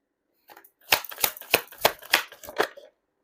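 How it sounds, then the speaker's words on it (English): Tarot cards drawn and shuffled from a deck, a run of about seven crisp, papery flicks and slaps in quick rhythm, close and clear with nothing else around them. "Let's get 3 cards from this deck."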